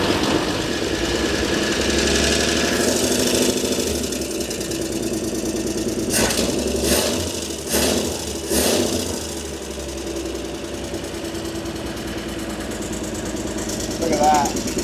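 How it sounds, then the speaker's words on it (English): A 1953 Chevy dump truck engine, once abandoned on a ranch, idles steadily up close with a rough, uneven mechanical rumble and a few louder knocks and revs partway through; people talk briefly over it. "Don't want to run it too long without water, but this is a good engine."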